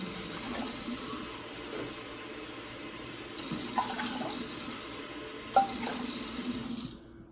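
Tap water running into a one-cup measuring cup in a kitchen, a steady hissing stream filling it with small shifts in pitch as the level rises, fairly quiet and without talk.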